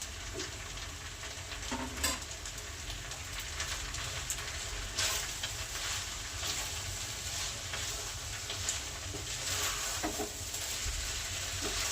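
Fried egg being stirred into atta Maggi noodles frying in a pan, a steady close sizzle with faint scraping stir sounds throughout, no talking.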